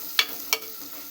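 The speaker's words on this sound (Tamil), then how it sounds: "இதை நல்லா ஒரு வணக்கி விட்டுடலாங்க." Masala powders for an egg curry are being stirred and sautéed in a pan, with a faint background sizzle broken by two short, sharp scraping strokes of a spoon against the pan.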